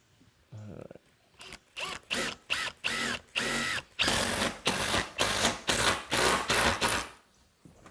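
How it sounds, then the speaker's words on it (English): A power driver whirs in repeated short bursts, screws biting into poplar wood without pre-drilling one after another, loud and close with brief pauses between runs. "I'm just screwing these straight through. I'm not pre-drilling or anything."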